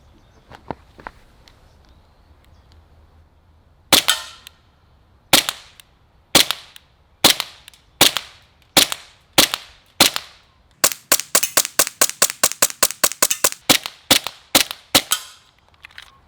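An airsoft M9 gas pistol fired outdoors: a few spaced sharp cracks, then a rapid string of about two dozen quick shots, loud and close with crisp report and little echo, no talking.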